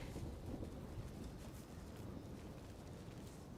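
Distant thunder of an approaching storm, a steady low rolling rumble with rain-like hiss, continuous and fairly faint, with no voices.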